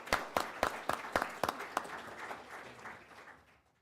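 An audience at a village meeting gives a short round of applause: a few sharp, distinct claps that quickly thicken into a brief patter and then fade away within about three seconds.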